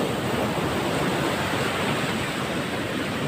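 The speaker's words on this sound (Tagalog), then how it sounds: "nakita nyo yung mga dalampasigan na ang lalaki ng alon humahampas sa tabing dagat" Big sea waves crash on a beach shore in a steady, loud, unbroken roar of surf, with no talking over it.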